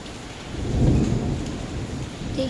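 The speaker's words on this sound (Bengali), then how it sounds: "যখনই কোন জায়গায় বেরোবো তখনই বৃষ্টি স্টার্ট।" Rain pouring steadily with a deep rumble of thunder swelling and fading in a thunderstorm, continuous and moderately loud, with no voices.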